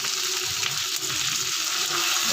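Carrots, bell pepper and peas frying in a pan make a steady, dense hiss and crackle that holds at a constant level throughout, close by, with no talking.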